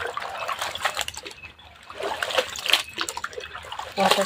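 Sliced potato wafers are washed by hand in a bowl of water, with close trickling, splashing and sloshing in uneven bursts and a voice talking over it.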